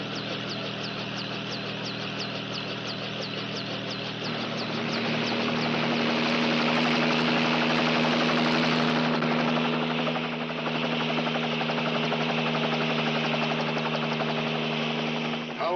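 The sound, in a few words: helicopter engine running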